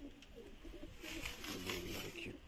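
Pigeons coo softly and continuously beside a pair kept together, a low murmuring burble over faint background noise, with no voices.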